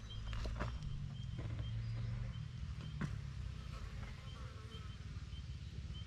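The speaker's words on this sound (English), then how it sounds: "Now they're buzzing around my head." Flying insects buzz around a hiker's head on a bush ridge track in a national park, a faint steady drone with occasional louder passes close by, over rustling outdoor background.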